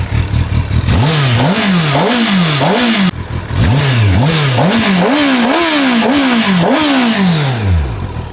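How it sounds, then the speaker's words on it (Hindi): Stock exhaust on a 1000cc motorcycle, loud and close, revved over and over in quick rising-and-falling bursts, with a final long rev that winds back down to idle. "चलो अब इसको थोड़ा रैप करके देखते हैं कि इसकी स्टॉक साउंड कैसी आती है।"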